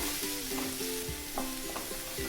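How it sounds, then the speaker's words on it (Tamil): Onions sauté in a pan for a wheat flour tiffin dish, sizzling steadily while a spoon stirs and scrapes in short repeated strokes, close and fairly loud with no talk. "வெங்காயம் சேர்த்து வெங்காயம் லைட்டாக பிங்க் கலரில் சேஞ்ச் ஆகும்போது நம்ம அது வரைக்கும் வதக்கிக்கலாம்"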